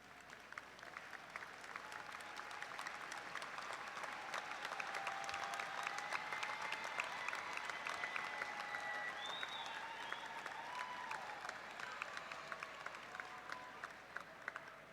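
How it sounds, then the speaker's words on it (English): A large crowd at a university commencement applauds continuously, a dense, steady patter of clapping that fills the room, with faint voices and a few whistles mixed in. "give them a round of applause"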